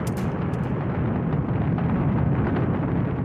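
A Soviet rocket launching the Sputnik satellite gives a continuous deep roaring rumble, loud and steady throughout with no pauses, low-heavy and broad.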